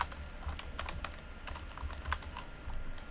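Rapid typing on a computer keyboard, a close, continuous patter of light key clicks over a low steady background hum.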